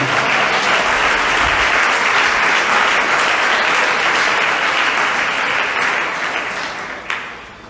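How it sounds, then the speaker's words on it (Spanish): A church congregation claps for the Lord during a service, loud, dense applause sustained for several seconds before tapering off toward the end. "Nos quieren dar un aplauso al Señor."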